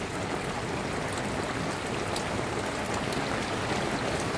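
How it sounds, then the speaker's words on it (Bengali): Heavy rain falling steadily in Al Buraimi, Oman, a dense continuous hiss of drops on flooded streets and surfaces, close and unbroken, no voices. "আজকে আমাদের ওমান আল বেরোমিতে প্রচুর বৃষ্টি হইতেছে সকাল থেকে"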